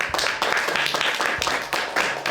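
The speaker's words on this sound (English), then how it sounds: "How about a round of applause for Mr. Jones?" Steady clapping from a small group, a continuous patter of hands at moderate volume with no voices over it.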